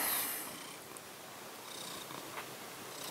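A pet cat purrs close and soft, a faint low steady rumble that carries on without a break in a quiet room.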